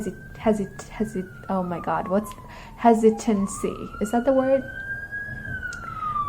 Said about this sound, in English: Sorry about the siren in the background